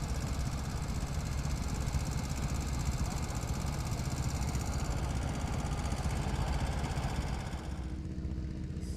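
A Kubota tractor engine runs steadily while ploughing at a vintage working show, a continuous mid-pitched chugging drone at moderate distance that eases slightly near the end.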